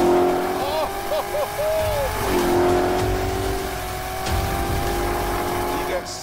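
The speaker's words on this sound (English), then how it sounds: "It's called the ZR1 and it's the loudest, fastest, most powerful Corvette ever." Corvette ZR1 V8 engine rumbling and revving at close range, a steady loud drone with rising and falling pitch sweeps, plus brief tire squeal and some voices talking over it.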